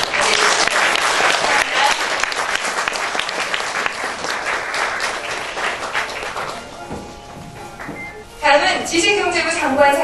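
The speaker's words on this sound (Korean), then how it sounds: "여러분 축하의 박수 보내주시기" Applause rises at an award ceremony for the Korea Brand Awards, a loud, dense burst of clapping that thins out and then swells again toward the end.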